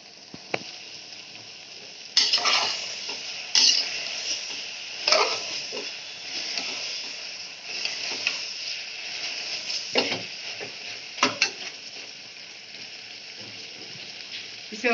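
Goat intestine (vajri) sizzles and fries in masala in a pan, a steady hiss broken by scraping stirs and occasional louder crackles, close up with no talking.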